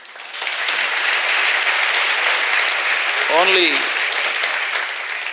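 Steady, loud audience applause fills a large hall during an onstage conversation, and a voice speaks briefly over it.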